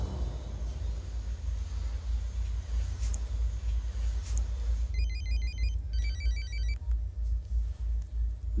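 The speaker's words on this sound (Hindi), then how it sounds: "इसका फोन उठा।" Mobile phone ringtone chirps in short repeated electronic bursts, starting partway through over a low rumbling background hum.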